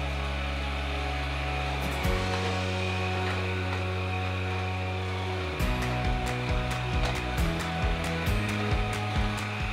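A household vacuum cleaner with scented air-freshener discs loaded into it runs loud and steady, its motor whine holding a constant drone, then dropping and shifting pitch a couple of times as it works.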